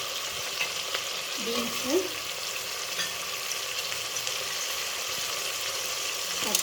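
Carrots, potatoes, beans and green peas for vegetable biryani fry quietly in a pan, a soft steady sizzle broken by scraping stirs, with a voice speaking briefly.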